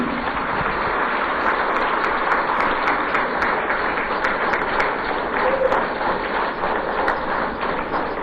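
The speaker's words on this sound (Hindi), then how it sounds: "मेरे ख्याल से सबके लिए एक बार जोरदार तालियां हो जाएंगी" Sustained, dense audience applause at a felicitation ceremony honouring unsung heroes, a steady wash of clapping from a large crowd that holds evenly throughout.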